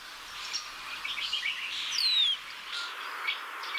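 Metallic starlings call from tall rainforest trees at Mount Molloy, giving a run of high, thin chirps and squeaky whistles with one clear rising-falling note, over a soft, quiet background.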